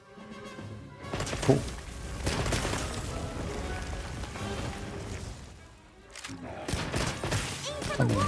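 Rapid bursts of turret fire aimed at a monster in Monster Hunter Wilds, loud, dense volleys with booming impacts and crashes, briefly easing before resuming, while someone talks over it.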